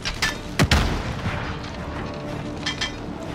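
A stun grenade goes off in a Call of Duty Warzone match, a loud close boom followed by a second heavy thud amid continuous gunfire and battle noise, with no talking.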